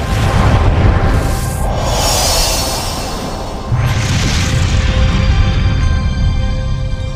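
A documentary's supernova explosion effect: a loud, deep rumbling boom with sweeping whooshes, swelling twice over several seconds with no voice present.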